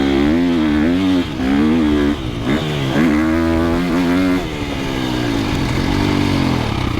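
A 2025 KTM 350XCF dirt bike on a bumpy trail, its engine revving loud and close with repeated rising and falling pitch sweeps as the rider throttles on and off.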